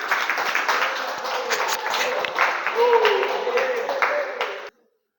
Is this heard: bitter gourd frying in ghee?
no